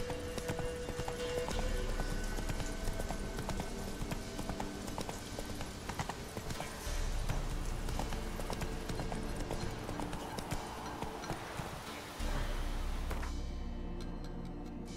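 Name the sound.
horse hooves galloping in video game Witcher 3: Wild Hunt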